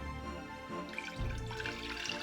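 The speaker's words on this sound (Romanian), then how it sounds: "Iar într-o altă crăticioară punem apa" Water pours from a tap into a small saucepan for honey syrup, a soft continuous trickle that shifts pitch as the pan fills, quiet and close.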